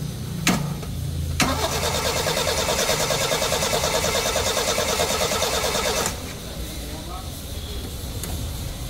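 A Toyota 2E engine cranks steadily on its starter for several seconds but fails to catch, loud and close, then cuts off, with people talking around it.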